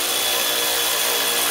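A tool tightens the track on a Yamaha V-Max 700 snowmobile, giving a loud, steady, close mechanical whir across the whole short stretch with no voices.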